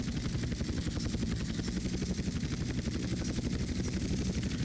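Steady loud helicopter rotor thump and engine whine from a helicopter in Grand Theft Auto: San Andreas, continuous and close with no voices.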